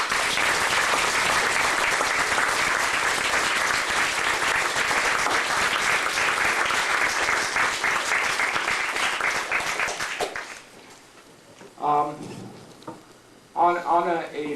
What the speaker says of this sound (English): can you please give her a round of applause for helping us?